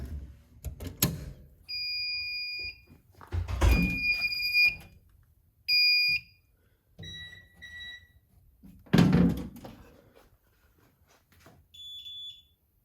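A home security system beeps during a simulated power outage in a garage being fitted with a ceiling UPS for the door opener, giving several short, loud electronic tones with thumps and clatter between them.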